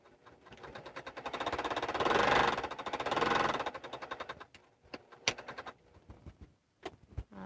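A sewing machine stitches a single row along a quilted bag, running in a fast close rattling burst that speeds up and slows, followed by a few scattered clicks and taps.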